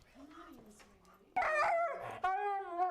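A Siberian Husky howls and whimpers in long, rising and falling tonal cries that grow louder midway. A quieter whine comes first, and a strong sustained howl follows near the end.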